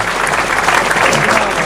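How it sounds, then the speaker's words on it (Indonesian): Audience applause from a crowd at a talk, a dense, loud, steady patter of many hands clapping close by for the whole moment. "Tepuk tangan Anda ini tanda bahwa Anda sedang salah paham."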